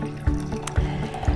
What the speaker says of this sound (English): So we're going to put a little hot water in here.